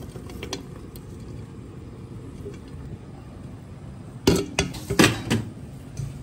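Vegetables tipped into a cooking pot with meat, a cluster of clattering knocks and clinks of metal utensils against the pot after a quiet stretch of low background noise.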